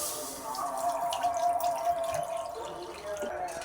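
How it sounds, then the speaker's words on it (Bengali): Water pours in a steady thin stream into a pan of pre-soaked sabudana set to boil, splashing and trickling close by for a few seconds. "সিদ্ধ করার জন্য আমি এখানে পানি দিয়ে দেব।"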